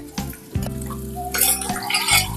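A pan of Kathiyawadi dal khichdi tempering with green chillies and asafoetida is stirred, giving metal scrapes and clinks against a low, steady background hum.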